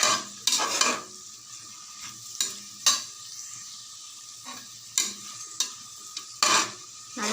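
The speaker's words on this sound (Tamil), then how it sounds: "வெங்காயம் நல்லா ப்ரௌன் ஆகுற வரைக்கும் நம்ம நல்லா இதை வதக்கிக்கிட்டே இருக்கலாம்." Onions sautéing in a pan for chicken biryani: a low sizzle under irregular bursts of a spatula scraping and stirring against the metal pan, close and fairly loud, with no talking.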